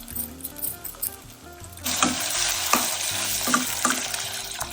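Onions and a small chopped tomato go into hot oil in a pan. A quiet clink and some rustling give way to a loud, sustained sizzle and frying hiss, broken by a few stirring scrapes and clatters.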